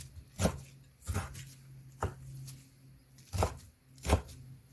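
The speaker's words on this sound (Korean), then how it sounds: "김치를 준비하고 썰어줍니다" Kimchi chopped with a knife on a board for kimchi pancakes, five distinct, unevenly spaced thuds up close with no talk.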